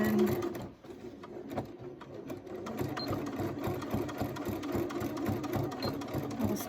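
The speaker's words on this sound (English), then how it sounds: "I will stitch slightly past and back stitch where I had started" A sewing machine stitching and back-stitching a quilt binding, running steadily and close with a fast mechanical whir and needle clatter, after a brief pause at the start.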